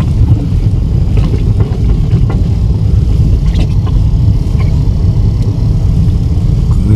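A car jolts along a rough, extreme mountain road toward the Inzer ridges, giving a loud, continuous low rumble with rattles and bumps from the body, mixed with wind noise and no talking.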